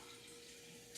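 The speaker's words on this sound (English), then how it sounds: "you're going to put some water in this pan" Water pours steadily from a tap into a cooking pan, a faint, continuous hiss and rush of running water with no talking.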